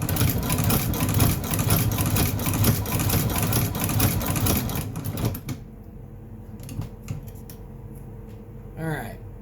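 A cobbler's sewing machine runs loud and steady for about five seconds with a rapid mechanical clatter, then stops, leaving a quieter hum broken by a few short clicks and a brief whirr near the end.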